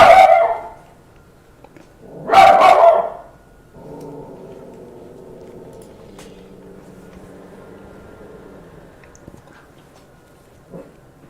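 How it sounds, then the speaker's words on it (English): A guard dog gives two loud, close barks, then a low, steady engine-like hum continues with faint clicks. "Obviously the guard dog does not like that it's tapping supply right now."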